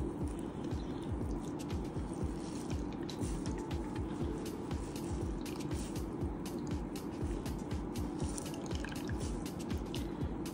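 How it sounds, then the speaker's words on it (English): Water drips and trickles steadily from a wet hand-knitted colorwork sock being gently squeezed by hand, a close, continuous patter with no talking. "Gently squeeze out any water."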